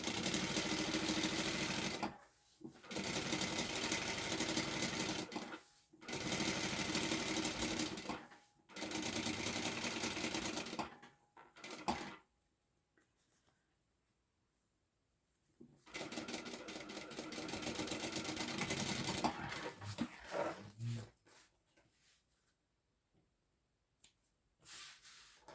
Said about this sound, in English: We sew this on at the seam allowance.